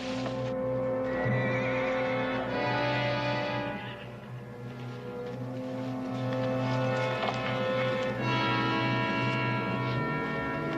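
A horse in a Western film scene lets out long, loud, quavering neighs and whinnies, repeated and close, with faint hoof movement underneath.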